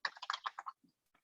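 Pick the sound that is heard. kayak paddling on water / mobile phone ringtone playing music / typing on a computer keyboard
typing on a computer keyboard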